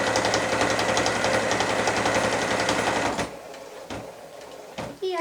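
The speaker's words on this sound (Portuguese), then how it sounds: "E aqui embaixo eu vou dar retrocesso para poder encerrar minha costura e travar a linha." A sewing machine stitches a shopper bag at a fast, even mechanical chatter for about three seconds, then stops; a few short, quieter bursts follow as the seam is reversed and locked.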